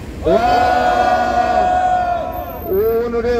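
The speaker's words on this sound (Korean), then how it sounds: "그리고 김규열 주권자님께 우리 모두 힘찬 격려 함성을 부탁드리겠습니다." A crowd at a constitutional reform rally and press conference lets out a loud, sustained shout of encouragement in unison, then a second collective cheer starts near the end.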